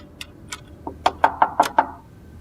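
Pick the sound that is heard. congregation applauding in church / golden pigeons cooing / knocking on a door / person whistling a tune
knocking on a door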